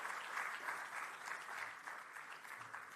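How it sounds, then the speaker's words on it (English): An audience at an evening tribute event claps steadily for about three seconds, a dense, even wash of applause from many hands with no voices standing out. "Let's put our hands together and give a round of applause for him as well."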